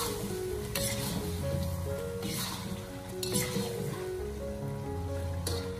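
Duck stew with bean curd sticks bubbles and sizzles in a pot as its sauce reduces over high heat: a steady close hiss broken by a few louder scraping stirs, with faint background music.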